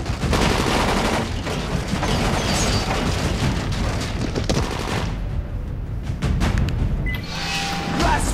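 Heavy, continuous automatic gunfire and booming blasts from Dying Light co-op play, a loud dense barrage that briefly thins before resuming.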